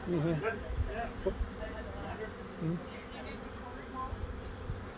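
Steady buzzing of many honey bees swarming close by around a box, with people talking over the drone.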